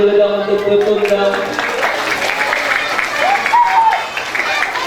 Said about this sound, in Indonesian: Tepuk tangan dulu dong untuk Tutung dong.